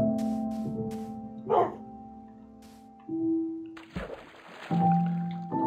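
Dog in the Minecraft video game on Xbox 360 gives a few short barks and yips over steady game background tones, with one louder bark near the middle and sparse sounds later.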